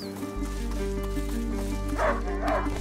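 A dog barks and yips in the stealth game A Plague Tale: Innocence, the sharp calls rising near the end over a steady low game hum and layered ambient tones.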